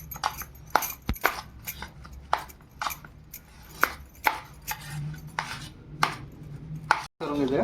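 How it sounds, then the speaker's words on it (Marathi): A spoon mixing vada pav potato filling in a bowl, with a series of sharp taps and scrapes against the dish at an irregular pace, close and clear with no talking. "हे सगळं करायचं चमच्याने मिक्स."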